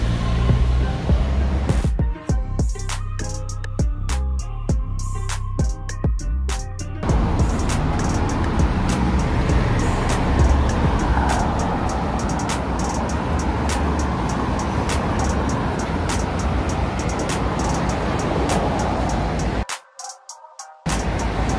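Steady road traffic rumbles near a water taxi terminal in Trinidad, with passing cars and heavier vehicles forming a continuous wash of engine and tyre noise, loud and close for most of the stretch, with an abrupt break near the end.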